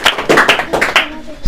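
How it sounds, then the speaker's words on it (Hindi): A few scattered hand claps from an audience of students at an assembly, irregular and close, arriving in short bursts before tapering off into quiet. "और एक बार सभी छात्र छात्राओं के लिए जोरदार तालियां।"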